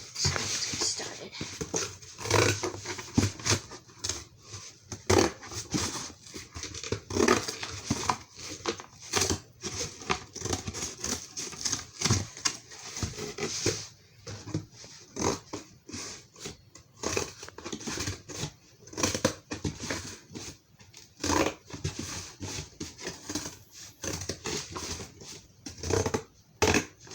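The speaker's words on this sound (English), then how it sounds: "we're going to cut off all the flaps" Scissors or a blade cutting the flaps off a cardboard box make repeated close, dry snips and crinkling cuts in an irregular rhythm, with soft rustling and handling noise between them.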